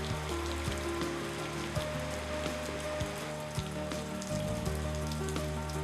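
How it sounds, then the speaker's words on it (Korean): Steady tropical rain shower pours down and patters on surfaces in an Indonesian island village during the rainy season, a dense continuous hiss with occasional louder drops. "잔뜩 흐렸던 하늘이 결국 비를 뿌립니다."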